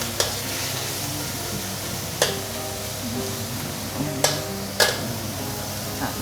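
Boiling water hits a wok of prawns and broccoli being stir-fried, adding a steady sizzle and bubbling under sharp metallic clinks of a utensil striking the pan, heard close with no voices.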